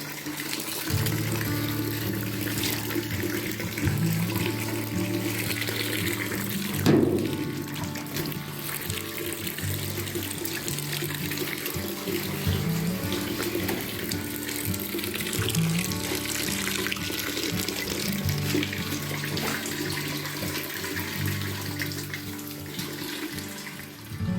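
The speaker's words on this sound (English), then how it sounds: "Now the fun job, cleaning the pan, getting everything put away." Running water washes out a maple syrup sap pan at a sugar shack, a steady tap-like rush and splash lasting throughout with occasional knocks and clatters from the pan.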